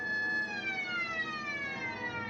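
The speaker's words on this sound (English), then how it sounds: "Cut the siren." A loud wailing siren with rising and falling tones, sustained and close, dominating the whole moment.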